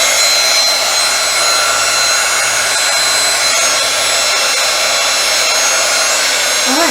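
A heat embossing gun blows steadily at close range as it heats embossing powder on a small piece held with tweezers, a constant loud whirring hiss with no breaks and no talking.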